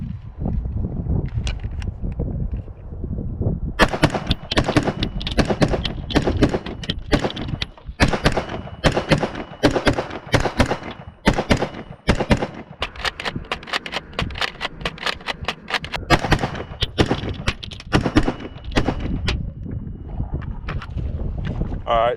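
A rifle emptying a full magazine outdoors: a long run of sharp, loud shots fired one after another in a quick, fairly steady rhythm, with wind buffeting the microphone throughout.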